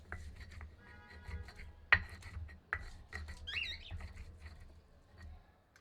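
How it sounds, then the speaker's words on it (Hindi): Ginger is crushed and ground on a sil-batta stone grinder. Faint, close rasping and rubbing strokes come with a few sharp knocks of stone on stone, all soft and intermittent against a quiet background. "सिलबट्टे पर पहले अदरक को कूट लेते हैं। फिर रगड़कर पीस लेते हैं।"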